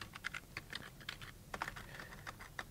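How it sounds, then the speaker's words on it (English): Quick, light keystrokes on a computer keyboard during an Active Directory domain setup, a steady run of close clicking taps with no talk. "and we just type the name."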